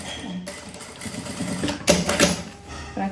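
A sewing machine runs in short stitching bursts while sewing the four corners of a double-sided puffer bag, with a louder run near the end and brief pauses between passes, close up and without talk.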